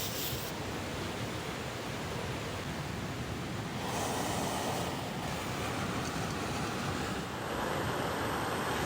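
A BRS 3000 mini backpacking gas stove burns outdoors on a river trail, giving a steady broad roaring hiss at constant loudness with no voices.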